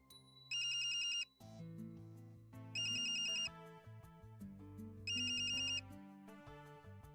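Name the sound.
phone ringtone ringing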